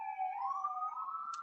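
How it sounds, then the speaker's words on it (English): A siren wails through a residential neighborhood. It gives one slow rising and falling tone, fairly clear and moderately distant, alone with no talk over it. "now there's a siren that you can probably hear in my neighborhood"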